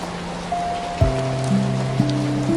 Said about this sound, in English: Rain on the roof, rain on the glass, rain in the garden outside.